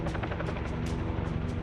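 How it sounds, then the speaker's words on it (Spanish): A helicopter over the Kilauea volcano in Hawaii, a steady loud rotor thumping with dense broadband roar that holds throughout, close and continuous. "Oímos que había un helicóptero acercándose más y más"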